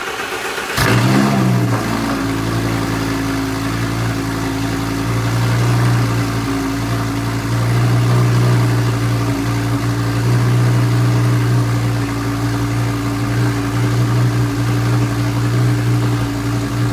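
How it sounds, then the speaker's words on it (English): A 2019 Audi B9 S4 makes a cold start on a chilly morning: a sharp crank and catch, a loud flare of revs, then a high, steady fast idle that holds close and constant. "What's also too much is this cold start."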